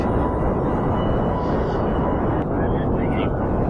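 Steady roaring rocket engine burn in Kerbal Space Program, a constant broadband rumble that stays loud and unchanging throughout, with a faint tonal shift near the end.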